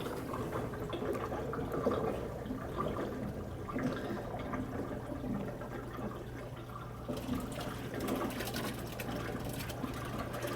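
Water pours steadily into an aquarium drain, a continuous gurgling rush of liquid that stays even and moderately loud, with a slight shift in tone partway through, no talking.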